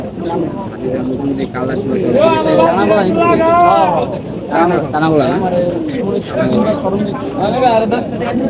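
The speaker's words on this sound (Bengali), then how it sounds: "এটা মাদি কবুতর" Pigeons at the Tongi pigeon market, including a female bird, coo and flutter amid loud crowd babble, while nearby voices haggle and talk over the birds throughout.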